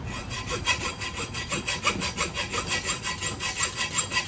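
A normal hacksaw cuts through a metal door lock and latch rod held in a bench vise, making steady, rhythmic back-and-forth rasping strokes, close and even, about four strokes a second with no talking.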